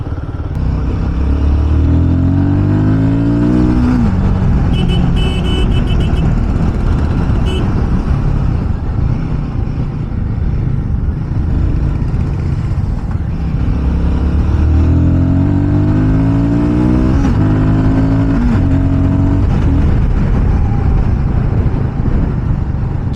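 Bajaj Pulsar NS200 motorcycle pulling hard in second gear on an open road, engine note climbing in two long rising sweeps with wind rush throughout, loud and close from the rider's position.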